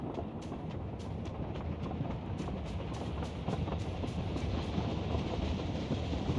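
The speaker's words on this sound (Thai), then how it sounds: "มีรถไฟด้วย" A train rolls past in the PUBG video game, a steady rumbling rail noise with rhythmic clicking wheel impacts, moderately loud and continuous with no talk over it.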